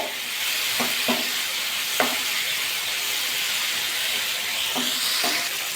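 Mango and dates being stirred together in a pan for mixed fruit chutney, with a steady sizzling hiss throughout and a few soft spoon scrapes and knocks spaced irregularly, no voices.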